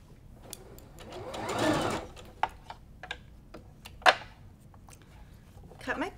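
A sewing machine stitches quilt block pieces for a sawtooth star block in one short whirring burst near the start, followed by scattered clicks and taps in a quiet room.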